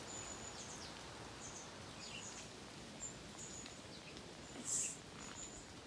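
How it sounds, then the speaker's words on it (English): In a small, wet woodland garden, faint bird calls chirp now and then over a soft, constant hiss of dripping water and gently moving leaves. One call near the end stands out a little louder. "There's more than one bird making the same noise."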